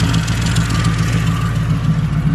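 A 2004 Ford Crown Victoria with its catalytic converters deleted and single-chamber FlowMaster mufflers idles close by, giving a steady, loud, low exhaust burble with a slight pulsing.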